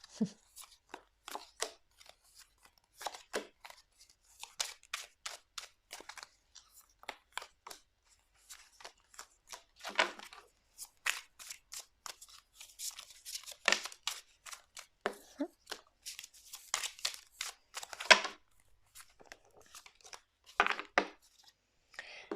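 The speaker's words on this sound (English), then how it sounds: "just the sound of the cards, it's very soothing" A deck of tarot cards shuffled by hand, crisp riffling bursts and soft flicks in irregular clusters, close and quiet, with pauses between shuffles.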